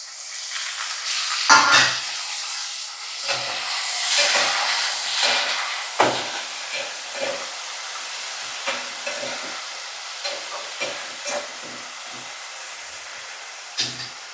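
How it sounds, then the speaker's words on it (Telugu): Tomato pieces sizzle and fry in a hot pan, with a steady hiss of steam broken by repeated scraping and stirring strokes, close and fairly loud, with no talk. "ఇప్పుడు ఇందులో టమాటా ముక్కలు వేసుకుంటున్నానండి."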